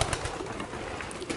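A 14-year-old homing racing pigeon coos on its nest, soft low murmurs heard up close against a slightly noisy background.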